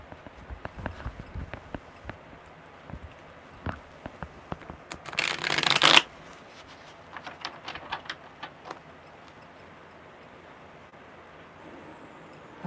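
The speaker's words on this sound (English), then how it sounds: "one more good shuffle" A deck of tarot cards is handled with scattered soft taps and slides, then one loud, brief riffle burst midway before quieter card clicks resume.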